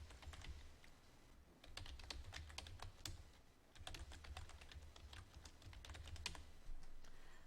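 Quiet computer keyboard typing, including a Ctrl+A select-all press, heard as clusters of light, sharp key clicks in irregular bursts with short gaps, close and soft, with no voices.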